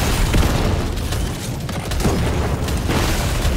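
Plasma gun bullets firing in Deep Rock Galactic Survivor, a dense continuous barrage of booming shots and impacts over busy game noise, loud and steady throughout.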